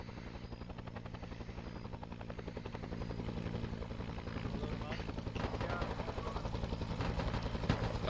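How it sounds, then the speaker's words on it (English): A military helicopter in a Vietnam War video game thrums steadily with rhythmic rotor chop, growing louder toward the end, under faint background noise. "Dara, I'm going on the chopper with them and patch these guys up"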